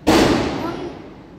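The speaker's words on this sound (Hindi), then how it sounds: "अभी अभी पटाखे की आवाज आई, अभी वो दिवाली स्टार्ट भी नहीं है, अभी बॉम्ब स्टार्ट हो गए" A firecracker bursts outdoors during Navratri, ahead of Diwali. One sharp, loud bang hits close by and its echo rumbles away over about a second.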